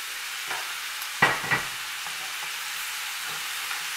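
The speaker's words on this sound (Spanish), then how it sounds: "vamos a echar ahora la carne para que se cocine" Beef tipped into a pan with onions for beef pitas, sizzling softly at a distance, with two brief louder clatters of meat landing early and a quiet steady fry afterward, no voices.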